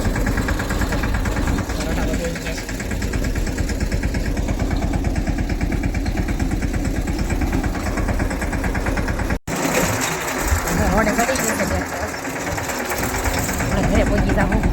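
A tractor engine runs steadily nearby at a farm field edge in the evening, a continuous low mechanical drone with a rhythmic chug, heard under people talking throughout.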